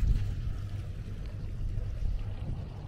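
A boat's trolling motor runs barely engaged at low speed, about 1 to 2 miles per hour, while fishing for pike and perch: a steady low hum under wind noise and water, continuous and close throughout.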